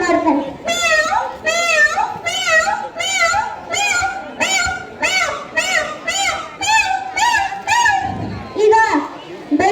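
A child at a school talent competition repeatedly imitates a kitten's meow, a steady run of about a dozen short, high, rising mews, close and loud with no other talk.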